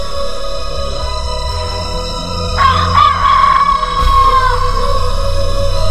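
A chicken cries out in a loud, drawn-out crowing squawk as a fox seizes it by the neck, set over a steady low background bed, rising midway and trailing off after about two seconds.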